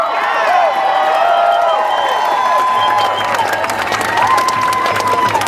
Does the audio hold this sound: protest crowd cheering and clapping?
yes